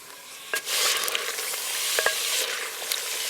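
Chicken with ginger, salt and coriander powder stirred in a pan, a soft steady sizzle under scraping spoon strokes, with a few sharper clinks of the utensil against the metal, village-style cooking, no talk.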